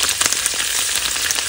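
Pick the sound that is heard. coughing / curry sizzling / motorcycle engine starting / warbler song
curry sizzling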